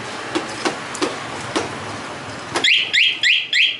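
A Honda MSX motorcycle takes several sharp knocks while its alarm is armed, then the alarm answers with four loud, rapid, rising electronic chirps in a regular rhythm, up close.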